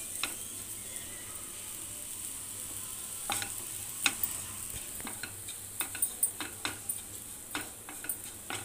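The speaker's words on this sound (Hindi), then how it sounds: "इसको हम लगातार चलाएंगे," Roti halwa made from leftover rotis stirred and roasted in a pan: a faint, steady sizzle carries throughout, with scraping strokes that grow more frequent and distinct toward the end.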